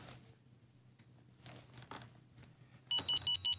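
A telephone starts ringing in a home scene of a Peruvian TV drama, after a few seconds of quiet rustling. It gives loud, repeated electronic bell trills that continue to the end.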